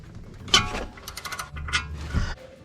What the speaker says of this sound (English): Next, let's break loose the bottom caliper bolt.